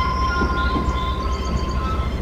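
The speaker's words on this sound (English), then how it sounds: "Just gonna whack me old brakes on." Train braking in the video game Zompiercer: a steady metallic rumble with thin high brake squeals and tones that hold for the whole stretch, loud and continuous with no talking.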